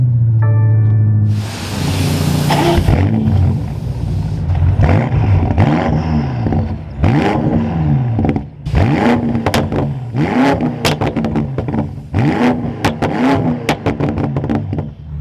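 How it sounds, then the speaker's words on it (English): A BMW M5 Competition (F90) engine starts with a loud whirring crank and catch, then settles to idle and is revved repeatedly in sharp bursts, close and loud. "Let's fire this back up though and take a listen to how this sounds."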